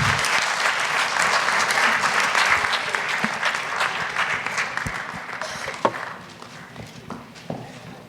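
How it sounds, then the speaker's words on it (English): Audience applause fills a large hall at a genocide commemoration event, steady and dense clapping that gradually thins out toward the end with a few isolated claps. "Can we give them another round of applause?"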